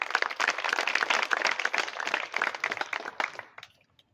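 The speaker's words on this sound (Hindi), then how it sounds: "एक बार अपने लिए तालियां बजा दो आप।" An audience claps together at a live gathering on farming and society, a dense, steady burst of applause close up that holds for about three seconds before tapering off into quiet.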